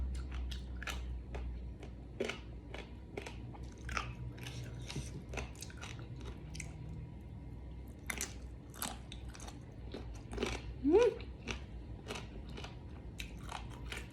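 Crunchy giant jellyfish being bitten and chewed close up, a steady run of sharp crisp crunches and wet crackles repeating for most of the stretch over a low background hum, with no talking.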